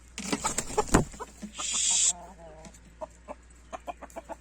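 A Gurk breed rooster clucks in a series of short, close calls, with one longer harsh squawk in the middle and scattered rustling around it.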